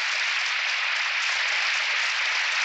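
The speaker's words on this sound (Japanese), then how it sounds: "1万2000人の大観衆から大きな拍手を受けました。" A crowd of some twelve thousand spectators applauding a figure skating performance, a dense, continuous roar of clapping that stays even and loud from start to finish.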